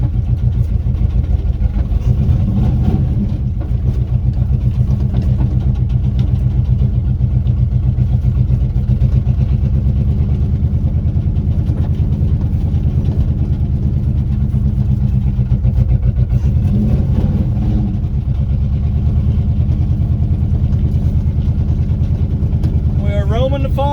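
An old blue 1976 Ford F150 pickup, abandoned for over thirty years, runs steadily on a farm with a low, continuous engine drone throughout, with faint background talk.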